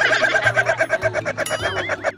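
A rooster crows close and loud in a chicken facility, with rapid repeated pulses that stretch into longer wavering calls toward the end.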